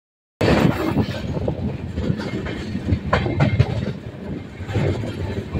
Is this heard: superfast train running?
yes